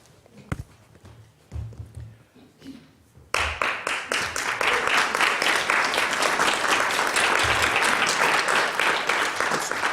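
Audience applause at a literary café event, starting after a few seconds of scattered claps and murmuring, then swelling into dense, steady clapping that fills the room and holds loud to the end.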